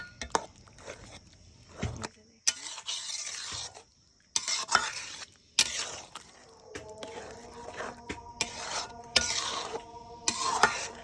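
Sweet mango pickle being stirred in a pan, with repeated scraping strokes of a spoon against the pan and a soft sizzle in between, close and fairly quiet.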